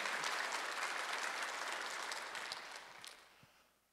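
Congregation at a Sunday church service breaking into sustained applause, dense and steady, then tapering off toward the end, with no talking over it.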